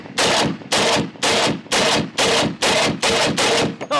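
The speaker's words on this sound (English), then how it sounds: "All right, mag dump." An AK-50 rifle fires a magazine dump: about eight loud, booming shots at a steady semi-automatic pace, each roughly half a second apart, with no speech between them.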